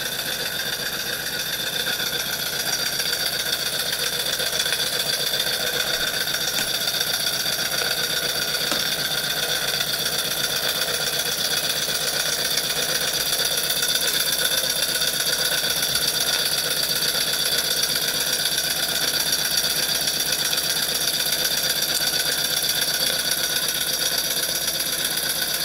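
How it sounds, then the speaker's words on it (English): Jensen 51 model steam engine running smoothly and quietly, a continuous even mechanical whir with a fine rapid ticking that holds steady with no talking. "Sure is a quiet running engine."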